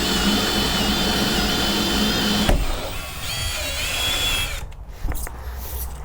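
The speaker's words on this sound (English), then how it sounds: "we're going to drill a hole straight through our wall" A 2 1/4 inch hole saw drills through a van wall with a loud, steady grinding whine that cuts out abruptly partway, followed by quieter handling noises and clunks.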